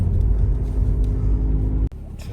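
A SEAT Leon 1.6 TDI diesel car driving on a German road, with steady low engine and road rumble heard from inside, a brief sharp dip near the end before the hum resumes.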